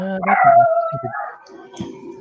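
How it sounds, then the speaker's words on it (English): A dog barks and whines nearby during a livestreamed board game session, a loud, drawn-out yelping bark followed by a few shorter yips and whimpers, with no talk over it. "Oh, dog's getting testy."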